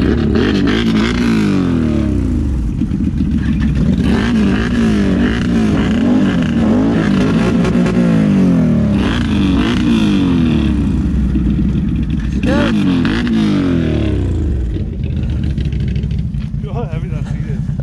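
A motorcycle engine revs steadily close by, its rumbling pitch rising and falling throughout, with voices talking over it.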